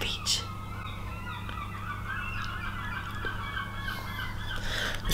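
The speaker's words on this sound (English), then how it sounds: "Hear those birds?" Seabirds at the beach in Margate honk and call over steady wind and surf noise, some calls nearer and louder, others faint in the distance.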